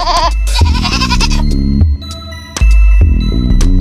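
Goats of a meat breed raised for breeding and trade in Batangas, Philippines, bleat loudly and close by. Several wavering calls follow one another, with a brief lull in the middle.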